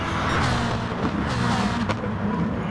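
Racing car engines in a sim racing game, a Ferrari among GT cars running close, a steady loud engine drone with shifting pitch and a brief sharp burst near the end, without talk.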